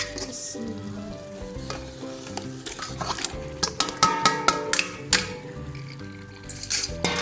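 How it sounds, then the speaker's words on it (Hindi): Chicken pieces hit a pan of spiced onion masala for a restaurant-style chicken biryani, crackling and sizzling steadily while a spoon scrapes and clanks against the metal in irregular bursts, close and fairly loud. "हम इसमें चिकन ऐड करते हैं।"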